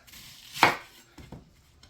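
A knife cuts through a peeled vegetable into large chunks on a board, one sharp chop followed by two softer, quieter cuts.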